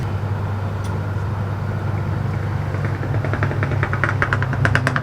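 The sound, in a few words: passing 1950s Chevy car engine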